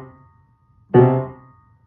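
Piano playing a grace-note figure from a beginner exercise, a quick ornamental note struck just before a brighter accented chord that rings briefly and decays, close and alone.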